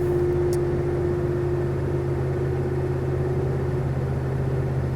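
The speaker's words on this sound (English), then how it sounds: "I'm keeping my foot on the gas a little bit just to keep it going." An old car engine idles steadily with light throttle held to keep it running, a continuous low rumble with a faint hum, close and alone with no talk.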